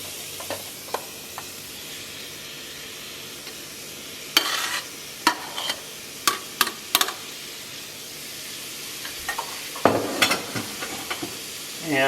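Onions and carrots sauté in vegetable oil in a pan, a soft steady sizzle broken by several sharp scraping stir strokes and clatters from a utensil, close up with no talking.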